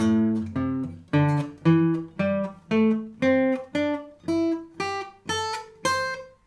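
A guitar plays a rising scale across all strings, twelve clear, evenly spaced plucked notes, each ringing briefly before the next, climbing steadily in pitch.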